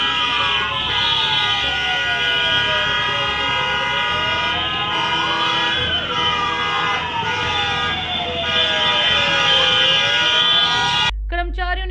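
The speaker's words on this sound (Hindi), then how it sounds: "मौके पर पहुंची दमकल की 8 गाड़ियों ने आग बुझाने का प्रयास किया।" Loud wailing fire engine sirens rising and falling continuously as fire trucks arrive at a factory fire, close and dominant with traffic noise underneath, then a brief horn blast at the very end.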